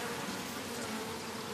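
Honey bees buzz densely at a beehive, a continuous, close swarm hum with no talking.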